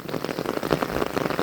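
Heavy rain pours down in a wet thunderstorm, a dense, steady hiss of drops drumming on surfaces, close and loud without pause, with no voices.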